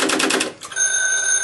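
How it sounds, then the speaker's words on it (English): A 999 call placed on a Strowger telephone exchange demonstration: a quick burst of rapid mechanical clicks from the stepping switches, a brief pause, then a steady electronic tone takes over. "So if we dial 999,"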